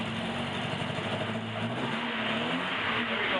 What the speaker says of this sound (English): Choke is still on full. Giving it just a touch of throttle.